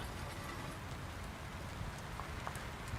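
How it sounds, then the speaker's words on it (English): Light drizzle falling outdoors at a lawn bowls green, a soft continuous patter with a few faint scattered drips and no talking. "It's drizzling now."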